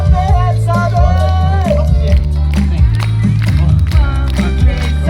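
Audience at a live family show at Jesperhus clapping along in steady rhythm beneath a loud song with singing, the claps blending into the music throughout.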